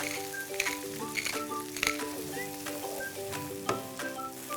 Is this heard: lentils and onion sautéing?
yes